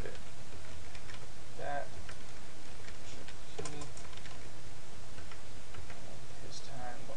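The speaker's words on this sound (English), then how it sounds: "So we can just actually start typing the name." Scattered clicking keystrokes on a computer keyboard as a name is typed, close and light under a man's speech.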